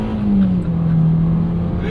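Engine of a 2022 Hyundai Venue revs during a downshift, a loud close engine note sweeping downward then holding steady with road noise underneath.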